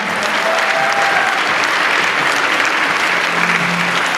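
A convention crowd at the Supanova Perth cosplay contest bursts into loud, dense applause for a contestant, a continuous roar of many hands clapping at once with faint cheering mixed in.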